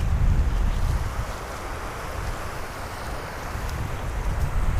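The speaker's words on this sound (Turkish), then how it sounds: "Hem buradan dalga geliyor hem buradan dalga geliyor." Ocean waves wash in from two sides around a tidal island as the tide comes in, with strong wind buffeting the microphone; a steady loud roar with surging low rumbles, no voices.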